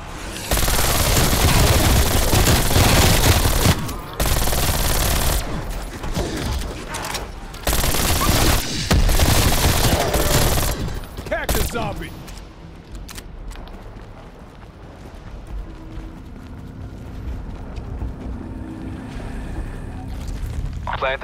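Dense, loud bursts of shotgun and other gunfire in Call of Duty Black Ops Cold War Outbreak crowd the first twelve seconds, then give way to quieter rumbling game ambience.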